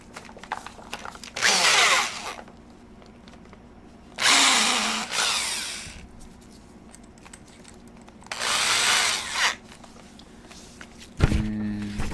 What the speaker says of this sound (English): I'm actually going to drill a hole slightly a bit more forward than where it's at